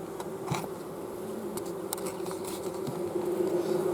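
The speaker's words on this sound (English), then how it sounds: "You can hear those bees, and boy, that's a good sound to my ears." A steady, dense hum of many honeybees buzzing in a hive close by, continuous and fairly loud, with occasional individual bees flying past.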